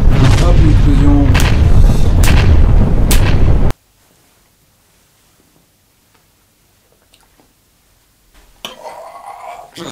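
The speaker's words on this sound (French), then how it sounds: "Hop, l'explosion." A loud burst of booming blasts and crackling lasts a few seconds, then cuts to near silence before faint noise returns.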